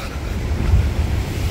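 Waves crash on a shore in a short, loud burst of rushing surf, heavy and close, mixed with wind buffeting the microphone and no voices.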